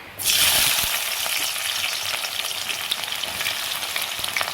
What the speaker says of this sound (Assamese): এতিয়া মই গুটেই পিয়াজখিনি ফ্ৰাই কৰি লম